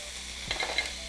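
Food frying in a pan for a potato bowl, heard as a soft steady sizzle with a few light scraping stir noises near the middle of the short stretch.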